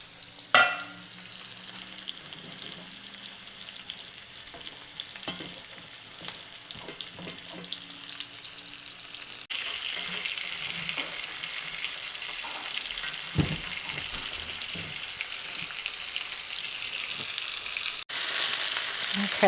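Stuffed salmon fillets seasoned with rosemary frying in butter in a pan, a continuous close sizzle with scattered spatula scrapes and clinks, growing louder partway through.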